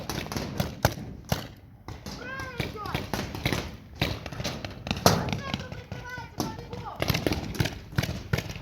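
Paintball guns fire sharp, scattered pops and thuds outdoors during a spring game, quick single and bursting shots spread through the clip, with players shouting and talking over them.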